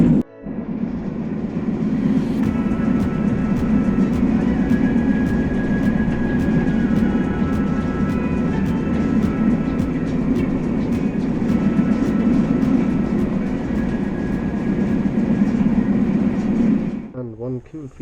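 Riding aboard a Matterhorn Gotthard Railway train near Zermatt: a steady, close cabin rumble with a low drone and regular rhythmic clicks from the rails, continuing throughout before fading out at the end.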